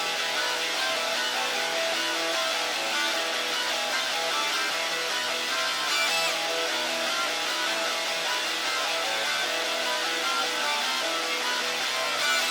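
A dense, gritty, distorted guitar-like melody from three layered plugins plays continuously in a grungy hip-hop beat, bright and saturated, holding a steady loud level throughout with no voices.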